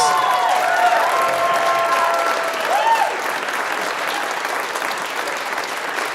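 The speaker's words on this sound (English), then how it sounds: "Let's have the whole family stand up and give them another round of applause." An audience at a chamber of commerce business excellence awards ceremony gives a sustained round of loud applause, clapping steadily before slowly easing, with some voices mixed in.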